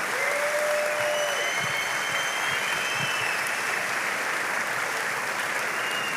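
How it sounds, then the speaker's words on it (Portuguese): A church congregation breaks into sustained applause, a broad, even roar of many clapping hands filling the room with a few whistles over the top. "você pode aplaudir Jesus?"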